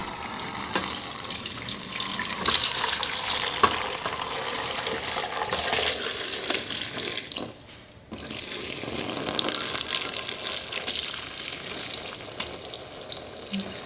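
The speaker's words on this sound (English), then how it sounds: "So you want to pick it up, pour it away from you," Hot chicken stock pours steadily out of an Instant Pot inner pot, a continuous liquid splash and gush that briefly cuts off near the end before resuming, close by.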